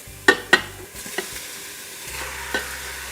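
Lamb sautés in a pan for a stew, with two sharp utensil clanks at the start, then a low sizzle and occasional stirring scrapes nearby.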